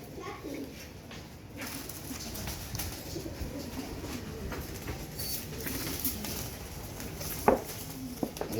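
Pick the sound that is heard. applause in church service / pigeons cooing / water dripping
pigeons cooing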